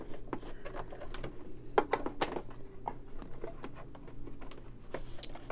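A sewing machine stitches a coiled rope bowl in straight stitch, giving a steady close mechanical patter with short louder bursts of stitching, alone with no voices.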